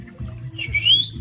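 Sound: person whistling, imitating a bird

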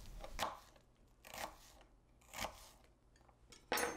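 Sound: knife dicing a shallot on a cutting board

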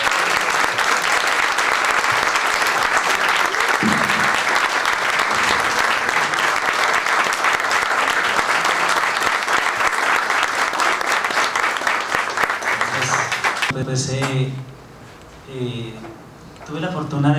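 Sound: audience applause

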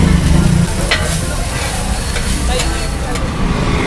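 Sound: carrot, capsicum and cabbage frying on a street dosa griddle

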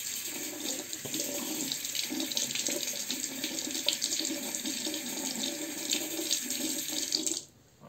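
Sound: water running while rinsing a razor

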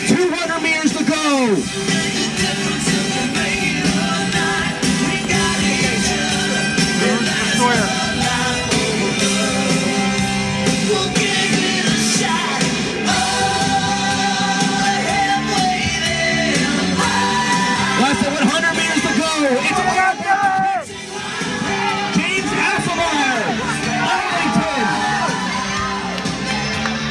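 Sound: crowd cheering runners at a mile race

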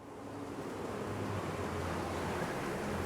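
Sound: gusts of wind in video game Star Wars Jedi: Fallen Order

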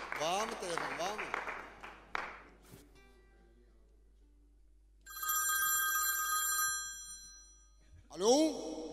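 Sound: telephone ringing during a live TV call-in show

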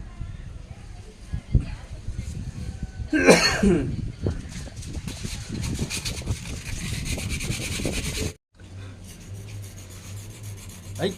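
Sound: filing down a broken fishing rod

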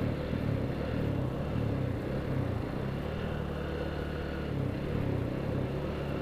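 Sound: Honda Bros motorcycle riding

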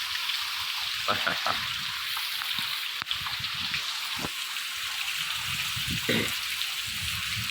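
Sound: rain falling

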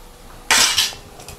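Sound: spoon mixing cooked rice into mango mixture in pan

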